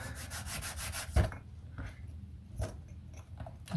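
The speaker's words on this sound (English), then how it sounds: "next thing we've got to do is just sand it to shape" Sandpaper rubbed over a wooden part of a scale Blackburn Monoplane model, a dense scratchy rasp of quick strokes up close, then a few short separate swipes with pauses between.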